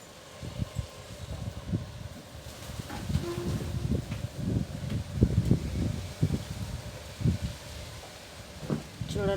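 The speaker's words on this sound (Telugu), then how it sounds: "వర్షం మబ్బు పట్టినట్లే ఉంది, గాలి తోలుతుంది." Gusty wind rushes and buffets outdoors under cloudy, pre-rain skies, with uneven surges and rustling, and occasional faint background noises mixed in.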